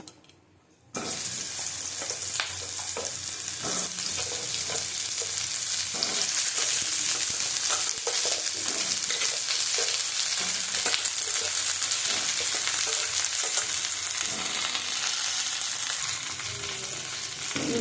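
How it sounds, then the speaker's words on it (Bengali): Pointed gourd (potol) frying in a pan of hot oil, starting after a brief quiet moment and then holding a loud, continuous, close sizzle with occasional stirring scrapes throughout, no talking. "এবার পটলটা ভেজে নেবো।"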